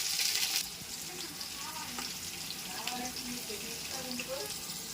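Onions sizzle in a pan with ginger garlic paste, a steady close frying hiss with a few soft stirring scrapes running under the crackle.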